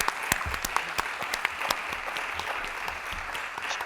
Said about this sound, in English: Big applause for Ben, please.